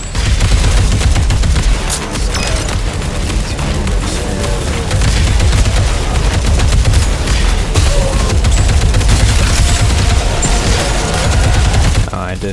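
Wall turrets firing nonstop in a roguelite video game, a dense, loud barrage of rapid shots and booms running the whole stretch without pause.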